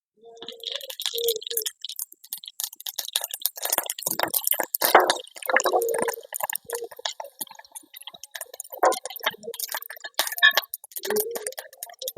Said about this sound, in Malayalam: നമുക്ക് ഇച്ചിരി കടുക് ഇട്ട് കൊടുക്കാം